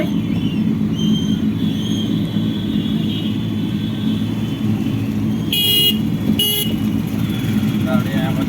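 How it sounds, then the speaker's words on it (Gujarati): Heavy road traffic during a rainy Ganpati arrival procession in Godhra, a steady engine rumble with two loud horn blasts near the middle, under a crowd and nearby talk. "તમે લોકો જોઈ શકો છો કેટલું ટ્રાફિક છે."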